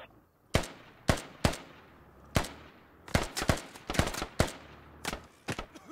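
Gunfire in the video game Squad: sharp single shots and short bursts crack out irregularly, some close and loud, others quicker in clusters, with quieter gaps between.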